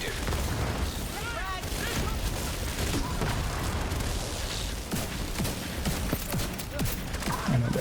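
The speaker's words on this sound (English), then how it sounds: "And the explosion of the fire grenade, even though they can't be set on fire, it exploding does actually do." Fire grenade explodes in a video game, a dense burst of gunfire-like blasts and booming under continuous loud game noise and a speaking voice, sustained across the whole stretch.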